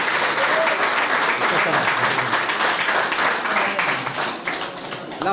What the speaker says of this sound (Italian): Gli applausi cortesemente.